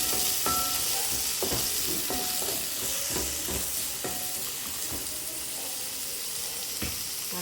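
Small shallots sautéing in a pan for an egg gravy, a steady close sizzle with repeated scrapes and clinks of a stirring spoon against the pan throughout, no talking.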